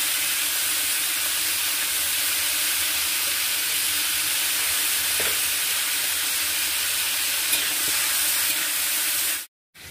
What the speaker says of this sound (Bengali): বরবটিগুলো আমি ওইভাবে ভেজে নেব ভালো করে।